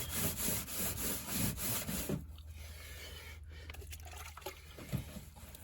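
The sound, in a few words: scrubbing rust stains with cooktop cleaner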